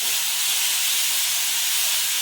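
Chopped onion and tomato hit a hot pan seasoned with asafoetida for pav bhaji khichdi, giving a loud, steady, close sizzling hiss that holds without a break and has no voices over it.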